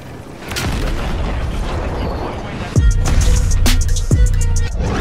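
Booming explosions and heavy impacts in Warzone thud in quick succession over a dense rumbling background, loud and close.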